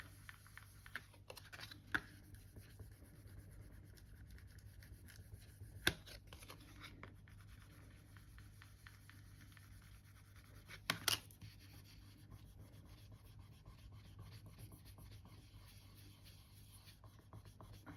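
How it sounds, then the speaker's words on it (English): A card is rubbed firmly over polymer clay to burnish it, giving a soft, continuous scraping rasp close to the microphone, broken by a few sharper knocks and taps. "Then I get my card. I'm just going to give this a good old burnish."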